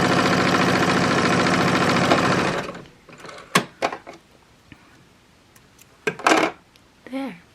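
A sewing machine runs fast and steady for about two and a half seconds, top-quilting a square quilt-as-you-go coaster, then stops, followed by scattered soft clicks, fabric handling and brief faint voice sounds.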